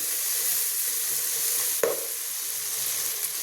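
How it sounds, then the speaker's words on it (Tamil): Onions sizzling and frying in a pan for murrel fish curry, a steady bright hiss with a sharp stirring clatter partway through, close and continuous, no talking. "இப்போ வெங்காயம் நல்லா இந்த மாதிரி வதங்கணுங்க"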